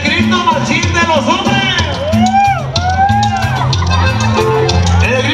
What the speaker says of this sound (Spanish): ¿Y cómo gritan las mujeres?